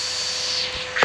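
A vacuum cleaner hose sucks dirt out of an emptied drawer, giving a steady airy hiss that swells louder near the end as it bumps against the drawer.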